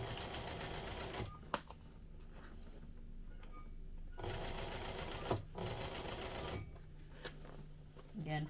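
A sewing machine stitching a crossbody bag at a 1/4 inch seam runs in two long whirring bursts separated by a quiet pause with a small click, close and steady, with someone speaking softly in places.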